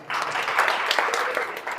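An audience at a lecture applauds in a brief, steady burst of clapping that fills the whole moment and is fairly loud and close.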